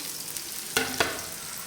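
Finely chopped shallots sizzle steadily in a hot pan with chicken, with two sharp clinks or stirring knocks partway through.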